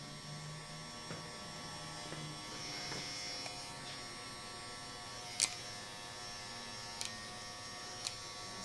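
Electric hair clippers trim a full beard during a barber's fade, giving a quiet, constant buzz with a few sharp clicks scattered through it.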